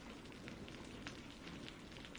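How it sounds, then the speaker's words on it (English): Steady rain drumming at night outside a house in the woods of Central Washington, a dense continuous patter with scattered sharper drops, loud and unbroken with no voices. "there was nothing but the drumming of the rain"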